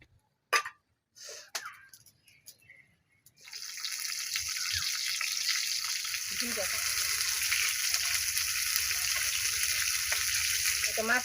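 After a few clanks and brief knocks, fish fries in a pan, a steady hiss of hot oil that carries on evenly to the end.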